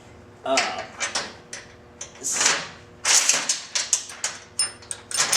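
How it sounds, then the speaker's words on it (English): A ratcheting wrench backs off a 13mm nut and bolt on a Victory XC motorcycle's front fender, giving repeated short clicking bursts close by with someone talking over them. "I have a ratcheting wrench, makes it a little bit easier."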